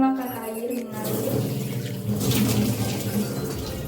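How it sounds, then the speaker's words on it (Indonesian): Water runs from a tap for handwashing with a steady splashing rush that swells midway, heard close and moderately loud, with a voice faintly present at the start. "Kemudian nyalakan air mengalir."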